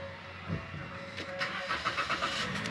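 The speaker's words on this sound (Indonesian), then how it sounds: "Oke, langsung bisa starter ya." A keyless Honda car engine starts: faint mechanical rumble, then a series of short cranking pulses as it catches, heard nearby without talk.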